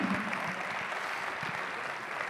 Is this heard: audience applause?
yes